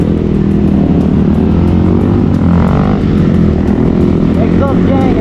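A motorcycle engine and exhaust drone steadily and loudly throughout a ride in Dimapur, with voices talking over the engine noise.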